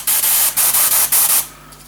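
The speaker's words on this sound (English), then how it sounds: "I just run some airbrush thinner through, cleaner through the airbrush, just to clean it out" An airbrush sprays thinner through to clean it out, a loud close hiss in four bursts of steady spray, each broken by a short gap, before it fades.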